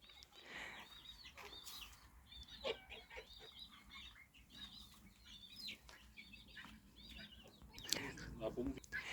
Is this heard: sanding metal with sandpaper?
no